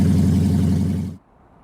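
Car exhaust roaring after a catalytic converter theft: a loud, low, raspy drone up close that cuts off abruptly after about a second, leaving near silence.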